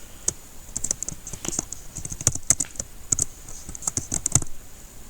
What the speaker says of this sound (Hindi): तो मैं अपना स्पाउस नेम लिखता हूँ।